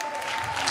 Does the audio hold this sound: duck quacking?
no